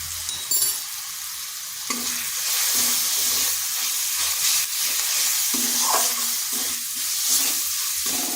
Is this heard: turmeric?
yes